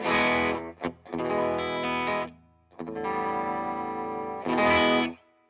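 Electric guitar chords from a Gibson Melody Maker ring out through the overdrive channel of a Carr Lincoln amp, lightly overdriven, a few sustained strums with a short choked hit between them, played alone.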